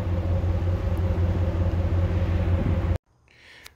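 A vehicle towing a motorcycle on a tow dolly with a trailer hitch, giving a steady, loud road rumble and engine drone for about three seconds before it cuts off abruptly to near silence.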